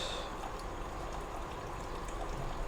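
Distillate trickles and pours continuously from a still during a stripping run of a sugar wash, a close liquid stream with no voices.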